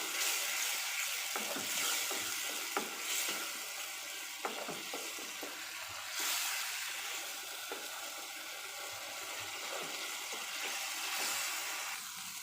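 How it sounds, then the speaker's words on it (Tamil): Tomato paste sautéing in oil for a sweet corn gravy, a soft steady sizzle at close range broken by scattered light clicks and scrapes of stirring, with no voices. "தக்காளி சேர்த்ததுக்கப்புறம் அதனுடைய பச்சை வாசனை போக நல்லா வதக்கிக்கலாம்"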